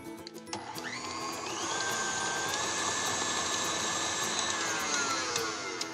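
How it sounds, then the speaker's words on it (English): A mixer blending cream cheese frosting for chai tea cupcakes, whirring steadily and loudly with a motor whine that climbs in pitch as it speeds up and then holds level, with no voices. "We'll just be blending this up"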